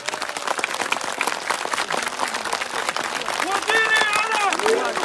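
Dense, continuous clapping from a crowd at a political rally, steady throughout with loud voices chanting and shouting over it.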